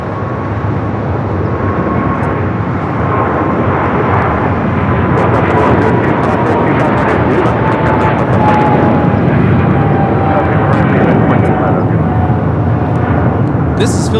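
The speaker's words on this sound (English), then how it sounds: "This is Philippine Airlines 113 taking off to Manila on the 777-300ER at Mabuhay" A Philippine Airlines Boeing 777-300ER takes off from LAX bound for Manila, its loud, steady jet roar filling the whole stretch with a slowly falling engine whine, with faint talk underneath.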